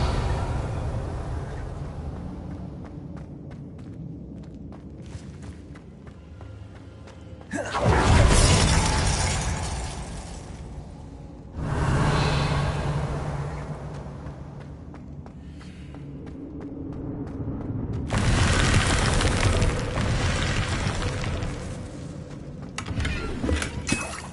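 Confringo blasting spell from the Hogwarts video game, heard as repeated bursts of loud shattering, crackling blasts about every few seconds, each lasting several seconds over a low rumbling game background.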